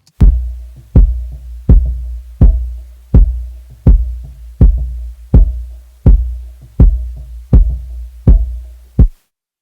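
Twelve deep, punchy kick drum hits, EQ'd with a low shelf, at a steady mid-tempo pulse, each with a boomy low thump and a short decay, playing alone.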